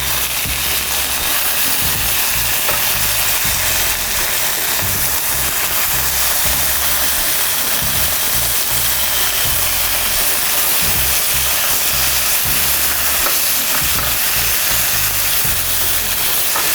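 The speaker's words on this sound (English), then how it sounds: "You want to cook your bacon until it's nice and brown" Bacon frying in a pan, a dense, loud, unbroken hiss and crackle of spattering fat that holds steady throughout, close up and with no talk.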